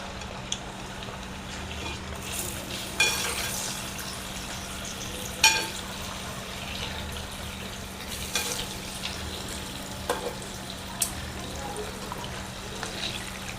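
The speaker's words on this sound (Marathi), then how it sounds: "याला थोडं दमानच तळायचं, म्हणजे कमी गॅसवरच, फुल गॅसवर मिडियम गॅसवर तळायचं." Dahi vada frying in oil on a medium flame, a soft steady sizzle with occasional clinks and spatters, partly under a speaking voice.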